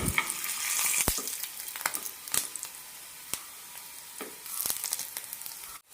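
Garlic frying in a pan for parippu podi, a steady crackling sizzle with scattered sharp pops and stirring scrapes, close and moderately loud, no voices.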